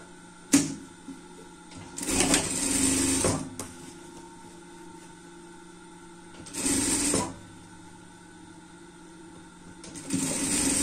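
Sewing machine stitching a dress seam in short runs, each a whirring mechanical burst of a second or so separated by quiet pauses, close and moderately loud.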